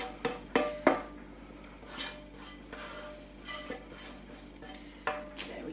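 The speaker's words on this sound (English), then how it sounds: "scrape off the last bits of the pan juices, just to again soak through the rice" A spoon scrapes a cooking pan to push the last pork pan juices onto sticky rice, with a few sharp metallic clinks early, then softer intermittent scrapes and taps, close and fairly quiet.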